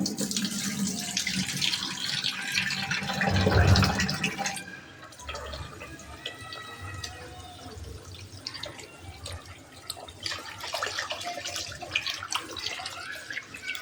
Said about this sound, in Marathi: तांदूळ पहिले आपण 3 वेळा पाण्यातनं धुवून घेऊया.